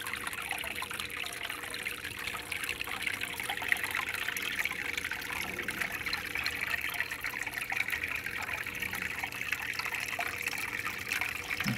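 An oxygenating waterfall filter in a heated aquarium housing a green terror cichlid trickles and splashes in a constant, even stream of water noise that never pauses.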